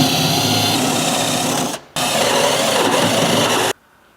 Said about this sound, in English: We have now grabbed our step drill bit.